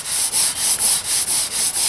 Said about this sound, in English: Basically like a wet sanding. I want to get just the surface rust off